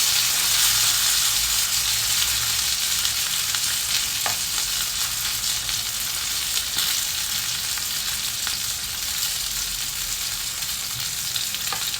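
Fish frying in oil with curry leaves, a loud, continuous close sizzle and crackle that runs steadily throughout with no talking.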